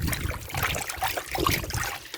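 Chicken pieces being rinsed by hand in a bowl of water for a Ghanaian light soup, with close, continuous sloshing and trickling splashes throughout.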